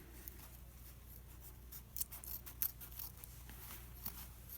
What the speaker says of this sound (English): I just went into my fitted sheet where the elastic is at, and I cut down about 1 inch